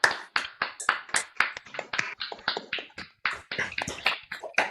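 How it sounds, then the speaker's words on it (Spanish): Scattered handclaps from an online audience after unmuting, arriving in uneven bursts of several claps each, close and fairly quiet, with no voices. "Nos desmuteamos todos para aplaudir."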